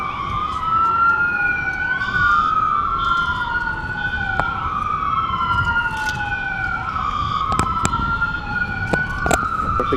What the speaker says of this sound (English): I hear fire trucks now.